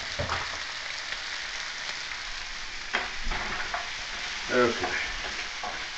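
Rajma kidney bean curry sizzling steadily in a pan while it is stirred, a close, continuous frying hiss with a few scraping strokes of the spoon and a brief spoken word.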